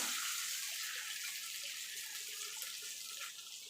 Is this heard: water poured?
yes